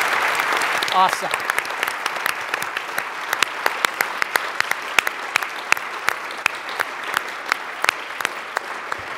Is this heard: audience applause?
yes